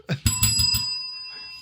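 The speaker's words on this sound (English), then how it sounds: "That's the inappropriate bell." A bicycle-style bell rings as a comedic sound effect in a talk show, giving several bright rapid dings that ring out and fade over about a second. No voice is heard over the bell.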